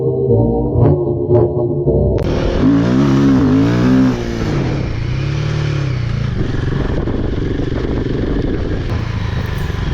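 Himalayan 450 motorcycles are ridden hard in hyper mode, loud engines revving and rising in pitch close by, then settling into a sustained roaring drone with wind rush.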